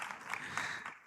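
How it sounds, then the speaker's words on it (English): A short burst of applause from a group, soft and somewhat distant, fading out after about a second. "A hand clap for Paul."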